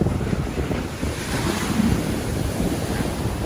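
Big Pacific Ocean waves break on the beach at Cabo San Lucas with a continuous, heavy roar of surf, mixed with strong wind buffeting the microphone, loud and unbroken throughout.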